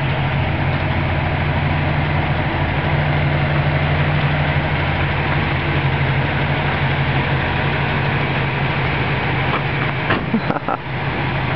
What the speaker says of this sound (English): And both their engines are running. Sounding sweet indeed.